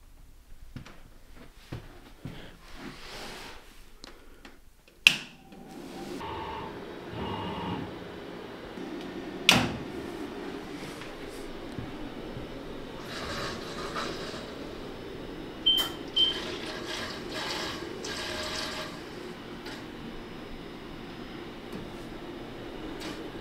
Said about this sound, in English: turn the laser on and allow the chiller to cycle some water, or in this case, antifreeze, through the laser